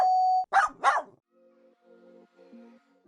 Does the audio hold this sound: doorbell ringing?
yes